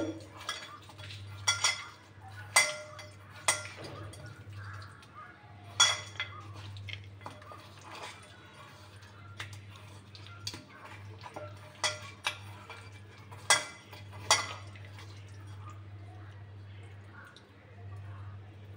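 Fish pieces mixed by hand with mustard oil in a bowl, with soft wet squelching and scattered sharp clinks of the bowl and utensils over a low steady hum, close up.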